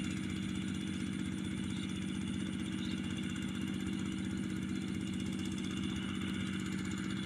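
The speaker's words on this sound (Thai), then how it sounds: "ที่จะใช้รถไถนา" A walking tractor engine runs at a steady idle, an even low chugging throb that holds constant and moderately close for several seconds with no voices.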